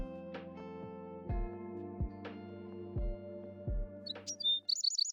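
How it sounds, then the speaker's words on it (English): Game birdsong from Love and DeepSpace, quick bright chirps that start near the end over a layered soundtrack with low thumping beats, clear and close. "Sunlight has barely touched the sky when bird songs wake me up."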